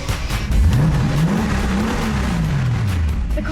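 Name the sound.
Mercedes-Benz G-Wagon AMG engine started and revved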